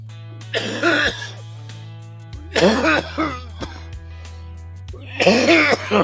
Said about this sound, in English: First cough of the day.